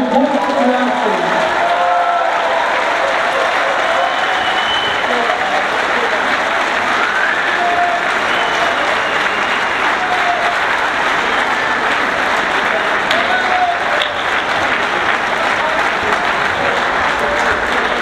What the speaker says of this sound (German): bitte einen großen Applaus für diese große Leistung